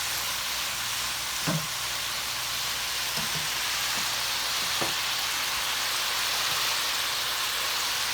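Green onion and carrots sizzle steadily in a hot ramen pan, a constant broadband frying hiss with a few soft knocks of stirring, close and alone without talk.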